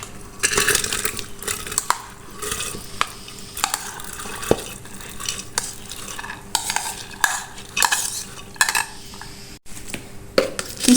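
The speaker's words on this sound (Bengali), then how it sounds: "তো আমি এগুলোকে প্রেশার কুকারে দিয়ে দিচ্ছি।" Onion, garlic and green chilies go into a pressure cooker, making a series of clinks, rattles and scraping knocks against metal at close range, with no talking.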